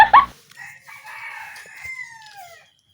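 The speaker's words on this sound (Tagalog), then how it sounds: "Kani day na manok is ginatawag na bantam." Bantam rooster crowing once, close and loud, a strained rising and falling call lasting about two seconds after a short burst of noise.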